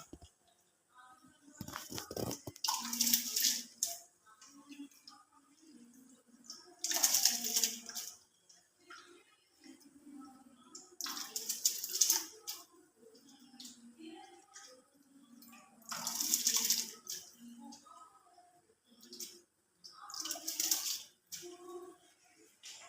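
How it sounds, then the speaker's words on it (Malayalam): Rice added to boiling water for homemade fried rice, with five quiet hissing pours spaced a few seconds apart over soft bubbling and no talking. "ഇനി ഈ അരി ഈ വെള്ളത്തിലോട്ട് അരി ഇടാൻ"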